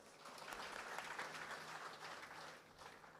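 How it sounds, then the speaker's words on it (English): Faint, distant applause from an audience at a Hindu Bhakti Gyan Yagya evening gathering, clapping for participating children in a soft, steady wash that swells briefly and then eases. "Let's give them a round of applause."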